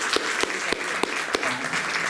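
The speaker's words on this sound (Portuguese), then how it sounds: "ao Tim e à Ana Martins, uma salva de palmas" Audience applause at a talk fills the room, with a steady wash of clapping and a few sharper individual claps standing out, fairly soft and distant.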